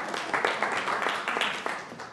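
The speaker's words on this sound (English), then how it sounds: "give yourself a round of applause" An audience at a professional women's community event claps in a short, moderate burst of applause, several people clapping unevenly in a room for about two seconds.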